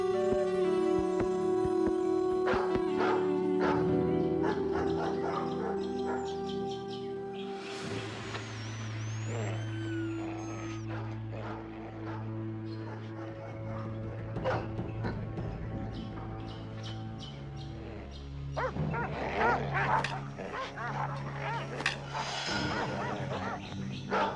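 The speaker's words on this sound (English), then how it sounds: "Hunting dogs. They smell her scent." Hunting dogs barking, yipping and whimpering in repeated bursts at moderate distance, with a narrator's voice speaking over the animals and some birdsong in the background.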